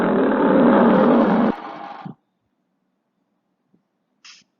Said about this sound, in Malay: Bunyi singa aum.